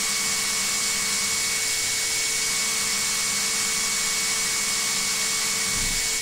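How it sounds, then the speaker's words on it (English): Prototype axial flux reluctance motor running out of sync with its rotating magnetic field, giving a steady whining hum with a rough, uneven buzz underneath, fairly loud and continuous, then a brief clunk near the end. "it was not synced properly to the rotating magnetic field of the motor,"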